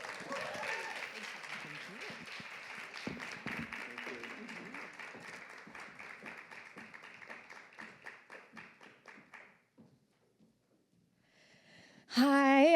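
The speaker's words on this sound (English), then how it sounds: "let's give a welcome, warm applause for Nashville poet and pop-up bookstore owner" An audience welcomes a Nashville poet and pop-up bookstore owner with applause: moderate clapping from a modest crowd that thins and fades to near silence, followed by a sudden loud burst of other sound at the very end.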